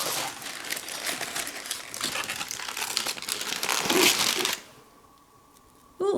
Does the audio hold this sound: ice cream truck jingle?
no